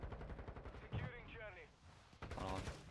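Automatic gunfire rattles out in rapid bursts in a Modern Warfare multiplayer match, including a VEL 46, with a fast burst at the start and another near the end, and short gaps of game noise between them.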